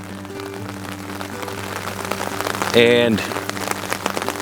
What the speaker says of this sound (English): because it's raining so much